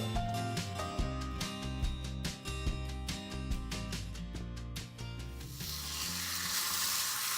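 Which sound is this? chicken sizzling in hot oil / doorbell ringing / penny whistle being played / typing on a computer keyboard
chicken sizzling in hot oil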